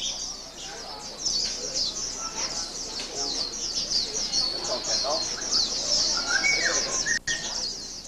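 A songbird kept in a household in Vietnam sings in bright, rapid chirps and trills that run continuously at moderate volume over a faint background hum.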